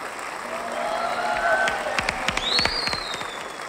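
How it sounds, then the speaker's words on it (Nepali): Audience applause welcoming a guest at a Nepali dance-competition premiere, a steady wash of clapping from a crowd that runs the whole time, with a few sharper claps and a rising whistle-like tone near the end. "केशव सरको स्वागत र सम्मानका लागि यी ताली हेर्नुहोस् त"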